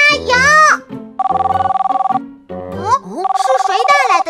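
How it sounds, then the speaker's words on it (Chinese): A cartoon telephone rings in two bright trilling bursts, interleaved with animated children's voices talking in a kids' vehicle cartoon. "是谁打来的电话？"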